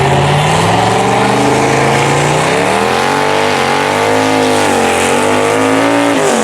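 Cars launch side by side in a drag race beside an Oldsmobile Cutlass Supreme on Mickey Thompson drag radials, loud engines roaring and climbing through gears with a brief squeal of tires, close and continuous.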